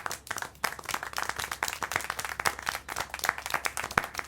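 Applause in the video game Syberia 4: a group claps steadily and fairly densely for several seconds at moderate volume, a continuous patter of hand claps with no talking.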